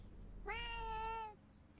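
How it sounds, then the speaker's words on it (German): A single drawn-out cat meow from the video game Reka, clear and close, heard alone with no talk over it. "Ich würde die Katze gern hier oben platzieren."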